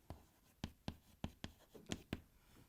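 Handwriting numbers during an accounting lecture on partner insolvency: quick, close tapping and scratching strokes of a pen or chalk, about a dozen in a fairly even rhythm, alone with no talk.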